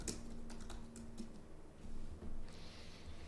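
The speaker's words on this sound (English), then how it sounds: "I'm typing here into this interface" Quiet typing on a computer keyboard, a quick run of soft clicking keystrokes close by, with a brief pause and a low background hum.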